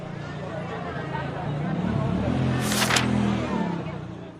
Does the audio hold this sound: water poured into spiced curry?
no